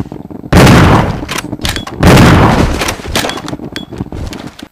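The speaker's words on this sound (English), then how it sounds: "So, for a spider, 2 shots with a shotgun." Two loud, close shotgun blasts fired at a spider in the video game Resident Evil Zero, each a sharp boom with a long rattling tail, about a second and a half apart, with faint clicks between.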